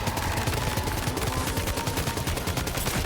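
Rapid gunshots fired at a BT boss in Death Stranding 2, a steady stream of close shots over loud, dense game noise with no pause.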